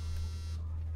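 Phone buzzing in The Last of Us PS4 remaster, a brief, harsh buzzing tone over a steady low hum that cuts off partway through, with no talk.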